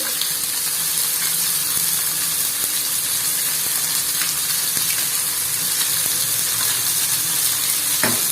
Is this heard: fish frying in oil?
yes